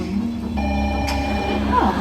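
A rescue phone rings with a steady electronic tone over a low background hum, and a brief chirp and falling sweep arrive near the end.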